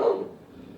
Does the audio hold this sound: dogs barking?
yes